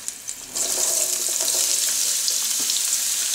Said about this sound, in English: Olive oil is ready. It's hot. Let's add garlic and